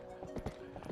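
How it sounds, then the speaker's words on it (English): Epona's hooves in The Legend of Zelda: Twilight Princess HD, a quick run of rhythmic clip-clop hoofbeats as the horse sets off near Kakariko Village, close and clear over light background ambience. "So why do we grab hold of our trusty steed, Epona, and get on up there?"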